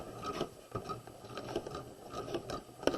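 A sewing machine stitches down a flat collar, its needle mechanism ticking in a quick, uneven mechanical rhythm, close and moderately quiet with no voices.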